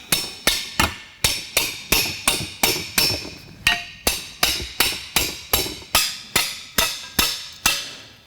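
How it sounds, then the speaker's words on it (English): A hammer taps a metal clothesline joiner into position on a folding clothesline, about nineteen sharp, evenly spaced blows ringing out one after another at close range. "you tap it in position using a hammer"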